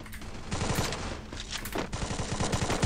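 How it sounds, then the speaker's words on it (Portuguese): Rapid bursts of Mag-7 shotgun fire in the Free Fire video game, several quick clusters of sharp shots repeating close and loud across the moment, with no talk. "Então toma essa aqui de Mag 7"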